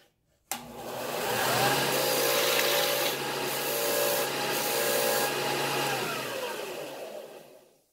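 Sandpaper pressed against a spinning wooden slimline pen blank on a lathe, a sudden start into a steady, loud, airy rasping hiss that holds for several seconds with slight dips in pressure, then fades out.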